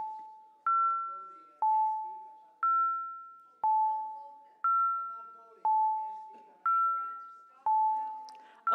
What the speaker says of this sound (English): Okay, stop those bells.